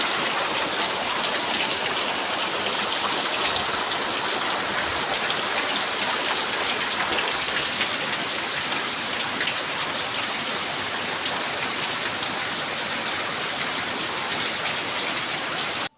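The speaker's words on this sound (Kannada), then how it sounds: "ನಮ್ಮ ಊರೊಳಗೆ ಸಿಕ್ಕಾಪಟ್ಟಿ ಮಳೆ ಬರತ್ತತಿ" Heavy rain pours down in a dense, unbroken hiss, steady and close throughout with no voices.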